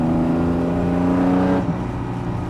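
An Eagle Low Drag GT E-type restomod sports car engine roars steadily and loudly close by with a deep droning tone, then drops in pitch as the revs fall off.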